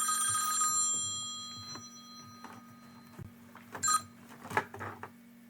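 A telephone bell rings in a quiet room, sharp metallic trills fading out early, followed by faint clicks and small handling knocks over a low steady hum.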